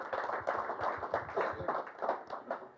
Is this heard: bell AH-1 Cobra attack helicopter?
no